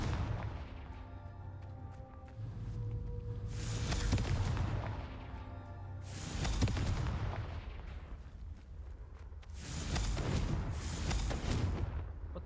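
Confringo blasting spells explode in Hogwarts Legacy, three loud booming blasts spaced a few seconds apart, each with a rumbling decay, over a low background hum.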